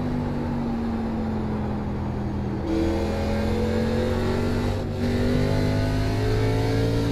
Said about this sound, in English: You can hear it chattering when we get into the corner.